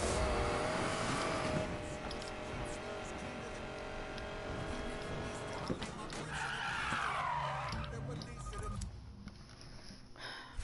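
Nitrous-boosted Ford Mustang engine in Need for Speed Payback, loud revving roar for several seconds that fades into mixed game noise with a rising whine near the end.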